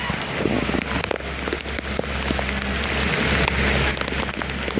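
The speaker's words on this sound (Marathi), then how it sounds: "पाऊस जोरात पडायला लागला" Heavy monsoon-trip rain at Malavli pours steadily throughout, a dense hiss of drops drumming on surfaces, close and loud with no pauses.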